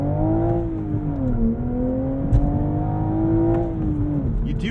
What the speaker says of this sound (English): Going into first gear, there is no launch control, so it's just up to your feet and your hands to get this thing to 60 as quick as possible.